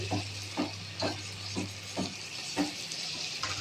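Carrots and beans frying in a pan for vegetable biryani are stirred in a regular rhythm of about seven scraping strokes over a soft continuous sizzle.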